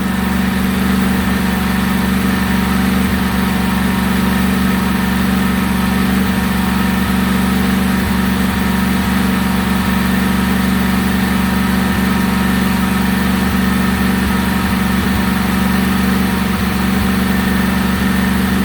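A newly installed Briggs & Stratton replacement small engine drones steadily and loudly at full throttle, its constant hum unbroken throughout.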